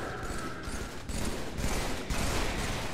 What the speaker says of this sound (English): Ow, I'm being shot at